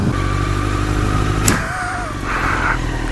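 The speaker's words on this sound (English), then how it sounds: "you're almost being hit by Dutchie Does on his bike" Motorcycle engine while riding on the road, a steady loud drone throughout with a brief high whistle-like whine midway and a slight dip before the engine note lifts again.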